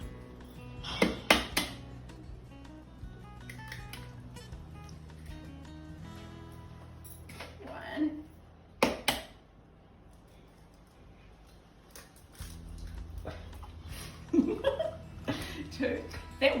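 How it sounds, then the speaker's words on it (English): Four eggs are cracked into a food processor while making a gluten-free banana cake, several sharp clinks and cracks against the bowl spaced apart, with people talking and chuckling throughout. "we're going to crack 4 eggs into the food processor here"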